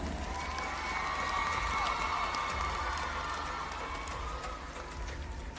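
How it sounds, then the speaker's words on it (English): A pageant crowd at the Miss Pacific Islands Pageant 2025 applauds and cheers in a dense, continuous wash of sound that holds steady throughout, with a faint tonal layer beneath. "Another round of applause for Miss Solomon Islands."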